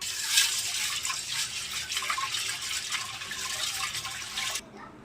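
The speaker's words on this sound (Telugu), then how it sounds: "ఇప్పుడు మనము శనగబ్యాళ్ళు కడిగి తీసుకుందాం" Chana dal being washed in water, a steady splashing, rinsing wash at moderate level that continues for several seconds, then stops abruptly near the end, leaving faint room noise.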